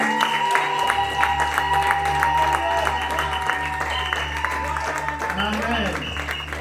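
A church congregation applauds continuously at an ordination service, with steady, dense clapping and cheering that fills the room throughout.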